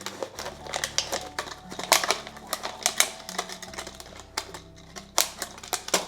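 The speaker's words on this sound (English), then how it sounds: "So I'm just going to cut this bottle with the utility knife." A utility knife slices and saws through a plastic bottle, giving dense rapid crackling and crinkling with sharp clicky strokes, close and fairly quiet, with no talking.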